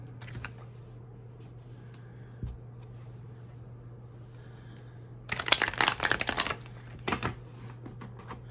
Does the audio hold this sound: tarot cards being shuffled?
yes